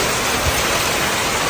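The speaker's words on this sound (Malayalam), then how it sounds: "കാസർഗോഡ് ജില്ലയില്ല പൊരിഞ്ഞ മഴ" Heavy rain in Kasaragod district pours as a steady, dense hiss, loud and unbroken, with no voices over it.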